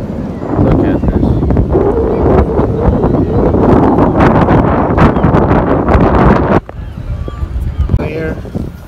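Strong gusting wind buffets the microphone on Santa Monica pier, a loud continuous roar that suddenly drops off near the end, leaving quieter ambient noise.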